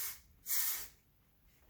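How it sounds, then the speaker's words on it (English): A short burst of clear volume texture spray misted onto hair during a blowout styling, one crisp, close hiss under a second long, with faint quieter puffs around it. "And as I mist it, the volume explodes in through the hair"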